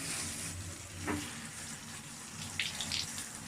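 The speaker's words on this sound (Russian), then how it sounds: "я вот прям вот так беру и все мочу, чтобы оно хорошо промокло под водой" Warm water runs from a shower head in a bathroom, soaking a crochet doily. It makes a steady, close hiss of spray with small splashes and no talking.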